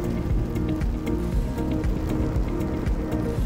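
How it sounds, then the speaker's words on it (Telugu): Heavy rain pours steadily and densely on surfaces nearby, a constant loud roar with scattered heavier drops and no pauses. "ఇంత వర్షం పడుతుంది."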